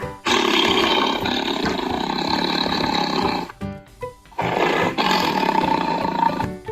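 A tiger roars loudly at close range, one long rumbling roar, a brief pause, then a second powerful roar.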